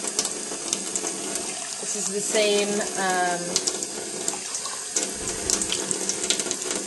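Water running from a kitchen sink tap into a measuring cup, a steady close splashing stream under a person talking, with the pitch rising briefly as the cup fills.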